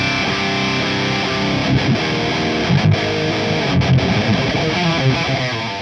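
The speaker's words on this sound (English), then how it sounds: "The Mesa Boogie Dual Rectifier basically defined metal tones from the 90s into the early 2000s" A heavily distorted electric guitar plays chugging metal riffs through a Mesa Boogie Dual Rectifier amp, with thick, saturated tone and rhythmic palm-muted bursts, and no talking.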